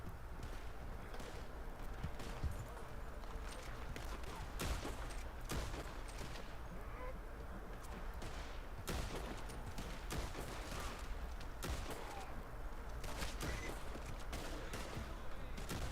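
Revolver gunfire in the Red Dead Online video game, many sharp shots cracking in irregular bursts over a steady game background, some close and loud, others fainter.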